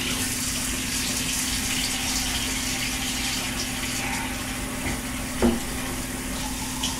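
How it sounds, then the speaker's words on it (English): Tap water runs steadily into a sink while cups are washed, a continuous even rush with a brief splash or clink near the end and no talking. "Ready to wash some dishes?"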